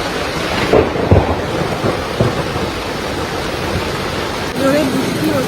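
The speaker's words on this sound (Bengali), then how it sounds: "প্রচুর জোরে বৃষ্টি হচ্ছে, ঝড় উঠেছে" Heavy rain pours down during a thunderstorm over the Maidan in Kolkata, a dense, steady roar with a few low thunder rumbles and gusts, and no one talking.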